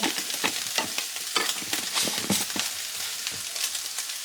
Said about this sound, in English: And I'm just stirring it around inside my measuring cup real well.